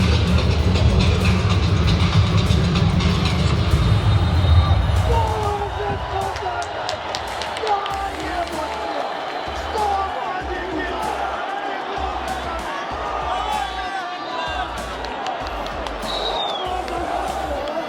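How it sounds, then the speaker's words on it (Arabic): Football crowd in a stadium, a large mass of fans chanting and roaring continuously, with rhythmic clapping or drum-like thumps in the later part, filling the space at steady loudness. "الجماهير اكتر مما توقعت بكتير جدا، وصوتهم باين"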